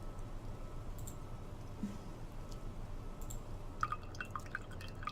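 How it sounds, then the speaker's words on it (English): Water drips steadily from a wet photo print lifted out of a tray of liquid in the horror video game The Letter. Scattered, faint drops fall at first, then a quick, denser patter of small splashes builds toward the end over a low ambient hum. "Water drips from the paper as I blindly pick it up and gently lay it on another tray holding a decent amount of photo flow."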